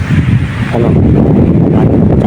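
Strong wind near trees by the sea buffets the microphone in a steady low roar with heavy rumble, continuous throughout.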